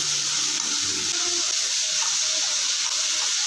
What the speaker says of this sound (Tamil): காய் போட்டதுக்கப்புறம் இந்த மாதிரி வதக்கி விட்டுக்கலாம்